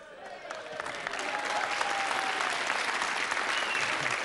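A studio audience at a TV game show claps steadily, swelling from lighter scattered applause into a full, sustained round that holds at moderate level throughout.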